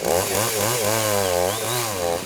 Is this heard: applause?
no